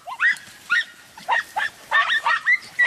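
An Andalusian podenco hunting dog puppy gives a rapid series of high, yelping barks, close and fairly loud, with short gaps between them and no talking.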